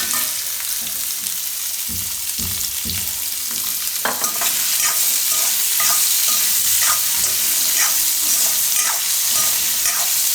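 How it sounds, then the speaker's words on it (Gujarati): Amla cooking in a pan with salt and turmeric, a steady bright sizzle with repeated scraping stirs, the spoon strokes growing quicker and more frequent about halfway through, close and loud with no talking. "આ બધું આપણે પકાવી લેવું થોડીક વાર. વચ્ચે વચ્ચે હલાવતા રહેવું."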